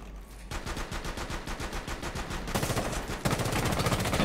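Rapid automatic gunfire in the video game Rainbow Six Siege, with dense bursts of shots firing continuously, loud and close, growing even heavier toward the end.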